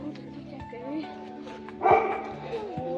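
A dog barks a few times outdoors on a trip in Andorra, short yelps and a louder bark near the end, heard under people chatting nearby.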